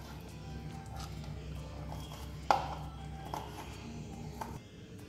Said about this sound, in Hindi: चिकन को मैंने इस तरह काट लिया है ताकि सैंडविच के ऊपर रखने में आसानी हो।